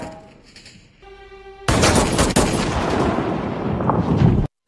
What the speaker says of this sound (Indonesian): Namun, pada tembakan pertamanya, Jack meleset dari sasaran.